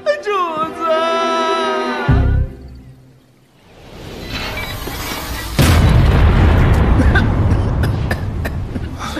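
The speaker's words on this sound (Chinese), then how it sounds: "咋又炸炉了？" An alchemy furnace blows apart in an animated xianxia series, a loud close boom with a rumbling burst that trails into crackling debris, following a stretch of voiced speech.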